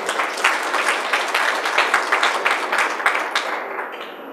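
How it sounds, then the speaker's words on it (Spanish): An audience applauds for José Joaquín Fernández, president of the Instituto Libertad, at a political forum: steady dense clapping from a crowd that holds for about three seconds and then thins and fades out. "Por favor, un aplauso para José Joaquín Fernández."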